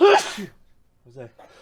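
One sharp, loud sneeze right at the start, followed by a pause and then a person speaking briefly.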